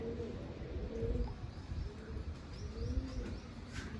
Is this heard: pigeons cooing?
yes